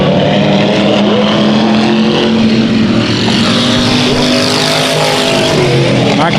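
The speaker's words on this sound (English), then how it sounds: "Listen to this 5 machine out of the corner, down the front straightaway" A vintage hobby stock race car on a Bakersfield dirt speedway roars out of the corner and down the front straightaway, its loud engine rising in pitch as it accelerates and holding close and strong throughout.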